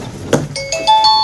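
A doorbell rings indoors with a short bright electronic chime, a couple of ringing tones that sustain and overlap briefly, loud and close, with no talking.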